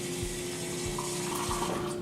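Warm water, one and a half cups, pouring from a tap or cup onto a packet of rapid rise yeast in a home kitchen, a steady close splashing trickle running throughout.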